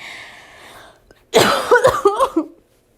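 A quiet hiss fades out, then a burst of loud, close coughing follows, several rapid hacks in a row before silence.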